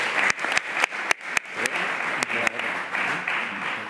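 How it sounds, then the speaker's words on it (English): Applause from an audience at a press conference, a moderate crowd clapping steadily with a few sharp, distinct individual claps standing out near the front of the sound. "A big round of applause for everyone."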